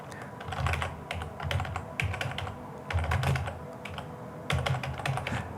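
Rapid typing on a computer keyboard, clicking in several quick bursts separated by brief pauses, close and fairly loud with no voices.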